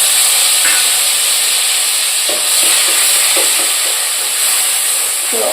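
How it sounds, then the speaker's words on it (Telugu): Onion paste frying in a pan over a medium flame, giving a steady close sizzle and hiss with soft scraping stirs around the middle and end. "ఆనియన్ పేస్ట్ ఇలా కొంచెం ఫ్రై అయ్యే వరకు ఫ్రై చేసుకున్నాం"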